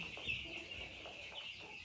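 Five-day-old broiler chicks fed Standart Agro feed make faint, busy chirping and peeping, a soft continuous chatter from a large flock of about a thousand birds in a steady room hum.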